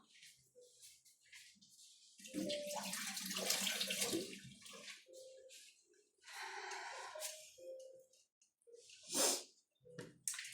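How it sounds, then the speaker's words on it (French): Hands rinsed under a running kitchen tap after chopping vegetables: water splashes on and off in bursts, close and fairly soft, with faint breathing and small handling noises between. "Je vais me rincer les mains."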